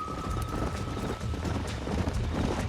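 Horses gallop in the Western game Red Dead Redemption: a dense, continuous drumming of hooves up close, mixed with wind rush and no clear voices.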